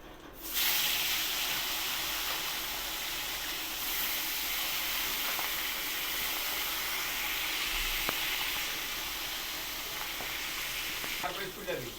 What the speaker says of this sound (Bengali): বাদ বাকি মাছগুলো একইভাবে ভেজে নেবো